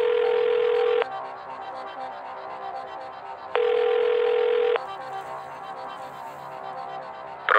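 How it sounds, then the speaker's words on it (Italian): A telephone call is dialed in the PS1 Who Wants to Be a Millionaire quiz game: two long steady electronic tones separated by a quieter gap, clear and loud with no talking. "Facciamo questa chiamata"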